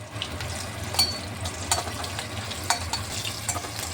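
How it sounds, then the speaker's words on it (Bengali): Cumin, chilli and asafoetida fry in a pan with a soft continuous sizzle, dotted with sharp crackles and pops and light stirring. No voices are heard. "এই দেখুন জিরেটাও একটু ভালো করে ভেজে নিচ্ছি লঙ্কা জিরে আর হিংটা যেহেতু দিয়েছি একটু ভাজা ভাজা হয়ে গেছে"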